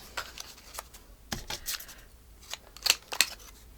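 Scissors snipping through paper border pieces for a craft edge, a handful of short crisp cuts spread unevenly, close and fairly quiet with no talking.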